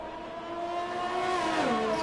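Formula One cars in the F1 2020 racing game at the Belgian circuit, sweeping through Eau Rouge: a steady, high engine whine that climbs in pitch, close and fairly loud, with no voices.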